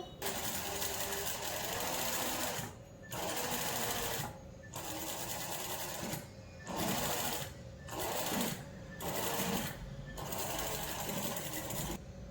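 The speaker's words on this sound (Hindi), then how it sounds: "अब देखिए यहाँ मैं प्रेस स्टिच देती हूँ।" A sewing machine runs a press stitch along a blouse piece, stitching in several loud, steady bursts of rapid needle clatter separated by short pauses.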